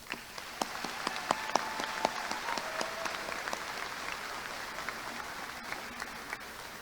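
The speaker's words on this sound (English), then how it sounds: "Please give them another round of applause." Applause from a graduation ceremony audience at Salina High School South, a steady wash of many hands clapping with some sharper individual claps standing out, sustained throughout at moderate distance.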